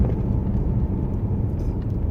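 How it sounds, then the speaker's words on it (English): Road traffic heard from a moving motorcycle, a continuous low rumble of engines and tyres that stays steady and fairly loud with no talking. "The first couple of miles, there's barely any cars. Now there's tons."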